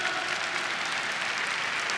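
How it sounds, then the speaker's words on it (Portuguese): Brief, dense audience applause from a church congregation during a sermon, steady and moderately loud throughout, with no voices on top. "Aplauda esse Papa, meu irmão, cheio do Espírito Santo."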